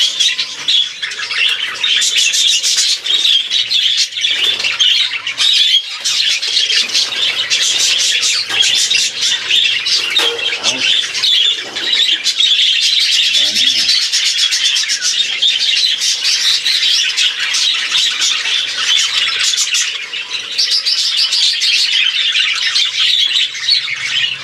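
Loud, continuous squawking and shrill calls from a crowd of pet rainbow and spangle budgerigars, nearby and unbroken throughout, with occasional flutters of wings.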